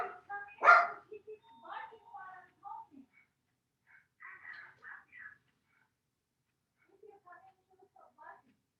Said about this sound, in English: I'll try to shut up my dog